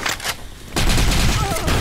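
Gunfire in the competitive shooter Blackshot, a loud, close burst of rapid shots that starts abruptly and rattles on steadily, with a brief shot earlier and clipped voice chat around it.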